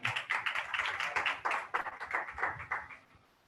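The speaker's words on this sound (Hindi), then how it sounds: "सो आए खुदा के कलाम के लिए जोरदार तालियां" A church congregation at a Sunday service in Karachi clapping hard and fast in a brisk rhythmic burst of many hands, close and lively, then tapering off.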